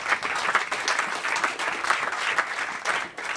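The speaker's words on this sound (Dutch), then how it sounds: "Dames en heren, nog even applaus voor Barry Smit." Audience applause for Barry Smit at a live football storytelling event, a full room clapping in a steady, dense patter with no voices on top, dipping briefly near the end.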